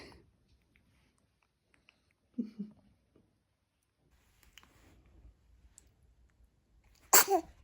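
After a quiet stretch with a few soft murmurs, a single sharp sneeze bursts out near the end, close and loud.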